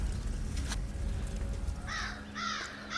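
A crow cawing, three harsh rhythmic caws near the end after a stretch of low rumbling background, fairly clear and close.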